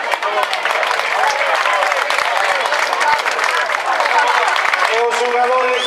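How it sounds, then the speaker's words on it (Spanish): Sustained applause from a crowd honouring the players at a Gondomar C.F. promotion celebration, dense steady clapping filling six seconds with a speaking voice faintly mixed in. "Un aplauso para ellos, por favor."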